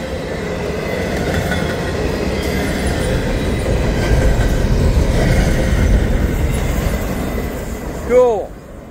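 Freight train with three locomotives powering up, a steady loud rumble of engines and rolling cars throughout, with a brief wheel squeal near the end.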